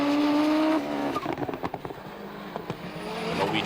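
Rallycross cars race through a chicane at a 1994 European Rallycross Championship round in Austria, with engines revving loud and close, then a burst of sharp crackling pops and backfires as they brake and turn in, before the engines rise again.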